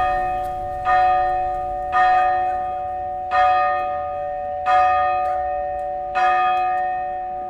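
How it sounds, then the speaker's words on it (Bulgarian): Festive church bells ring for St. George's Day in a Bulgarian village, six evenly spaced strikes about once every 1.4 seconds, each one a clear ringing note that decays slowly over a steady hum. "Празничните камбани вече бият."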